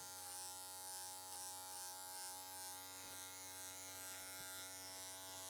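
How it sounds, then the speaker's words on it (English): Electric hair clippers buzz steadily during a men's transformation haircut worked with a clipper-over-comb technique, a constant close drone with a slight wavering as they move through hair, no voices. "Working up into that clipper over comb technique we were using."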